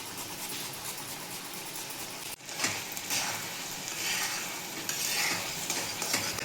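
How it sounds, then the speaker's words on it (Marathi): Thick puran filling of cooked dal and jaggery with cardamom and nutmeg, stirred and scraped in a hot pan, a steady sizzle and scraping that grows louder and denser after a sharp clank partway through. "चांगला चटका बसायला लागलेला आहे पुरणाला."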